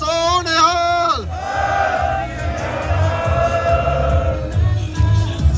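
A crowd at a Sikh gathering outside the Canadian Parliament in Ottawa roars the jakara war cry in response to a leader's call, a loud massed shout swelling and holding for several seconds.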